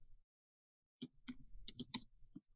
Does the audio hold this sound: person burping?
no